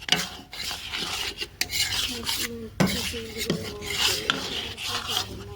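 A spoon scrapes and stirs flour roasting in a pan for khoya pinni, giving continuous close rasping strokes with occasional metallic clinks and no talk.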